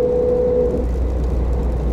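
A 1937 Mercedes 170 V Cabriolet runs in fourth gear with a steady, loud engine drone and road rumble, a brief tonal whine fading early, with no speech heard.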